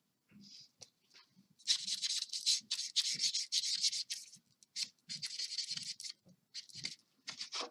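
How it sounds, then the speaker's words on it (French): Paper being creased and rubbed along the central fold of a handmade greeting card with a bone folder or fingers, close and soft, with repeated scraping strokes in bursts and brief pauses. "Je vais faire également le pli central."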